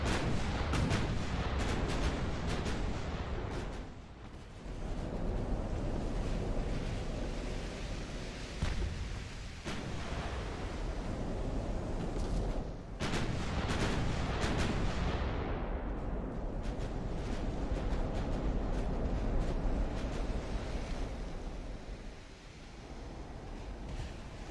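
Naval artillery fire in Ultimate Admiral: Dreadnoughts, a long run of loud heavy gun blasts and rolling booms, broken by a few brief lulls and a sweeping whoosh, steady and close with no voices.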